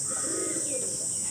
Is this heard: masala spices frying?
no